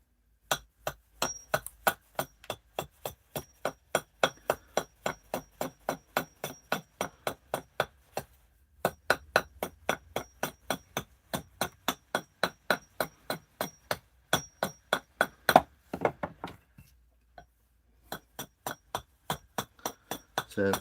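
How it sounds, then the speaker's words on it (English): Steel axe chipping and splitting green ash wood for carving a large bowl: a long series of sharp, ringing strikes in a steady rhythm, close and loud, with a brief pause partway through and no talk. "splitting and chipping. This is more of an exercise for me to get into some big bowls"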